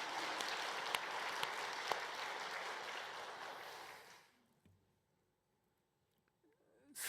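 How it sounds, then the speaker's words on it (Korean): Church congregation applauds the choir during a Sunday service, a full steady round of clapping that fades out after about four seconds into near silence. "박수 한번 하겠습니다."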